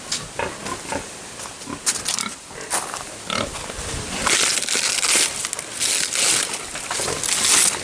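Several pigs crunch and chew on coconuts, some of them old and funky, with sharp cracking bites and a steady crinkling, sloshing munch that grows louder and denser near the end, close up and with no talk.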